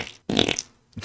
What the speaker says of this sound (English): Creating 100 new fart sound effects.